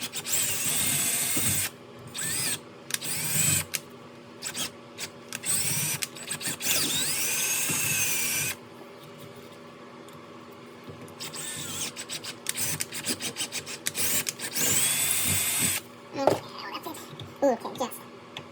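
A power drill in drill mode bores into thick press board while building a reel mower backlap adapter, running in several long bursts with pauses and handling clatter between, close by, with occasional talk.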